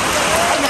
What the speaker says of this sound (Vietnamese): mưa quá trời lớn nữa bạn ơi